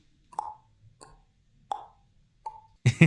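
A person imitates dripping water with their mouth, giving four separate hollow plops spaced well apart, followed by a louder, breathier burst of mouth noise at the end, all close and quiet against near silence.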